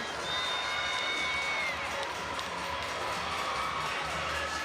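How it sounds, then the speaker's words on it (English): A gymnastics meet crowd cheers and screams loudly and continuously, a dense roar of shouts and whoops with scattered applause filling the arena. "you have the crowd cheering and going wild for a 10"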